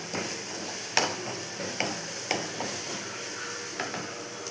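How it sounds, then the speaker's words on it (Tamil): Crushed garlic with garam masala and chili powder sizzles softly in a pan for chappathi masala, with a spoon scraping and tapping the pan in a loose rhythm of light clicks. "கரம் மசாலா தூள், மிளகாய்த்தூள், இதை நல்லா வணக்கிக்கலாம்."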